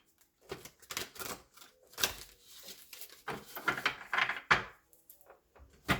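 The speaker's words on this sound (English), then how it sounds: "One more shuffle, please." Tarot cards being shuffled by hand, a series of quick papery riffles and taps in bursts, close and fairly quiet, with no talking.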